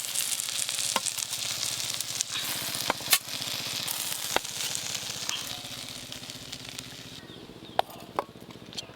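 Loitta fish paturi, wrapped in pumpkin leaves, fries in hot oil in a pan with a steady, close sizzle, broken by a few sharp clicks from a utensil, and the sizzle fades a little near the end.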